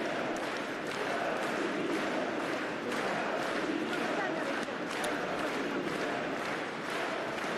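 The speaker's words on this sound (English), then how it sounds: "Why are they cheering? Anyone can understand?" A large crowd cheers and shouts during a leader's annexation speech, a steady, distant roar of massed voices with rhythmic swells, fairly faint and continuous.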